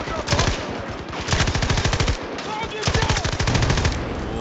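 Light machine gun firing in Battlefield 2042, three loud sustained bursts of rapid automatic fire separated by short gaps, with faint talk underneath.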